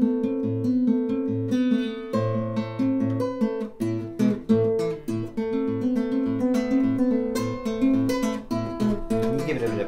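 Acoustic guitar Travis-picking a tune with added embellishments, steady alternating bass thumps beneath bright plucked melody notes and quick ornaments, close-miked and continuous, no voices.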